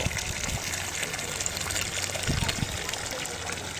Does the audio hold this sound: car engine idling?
no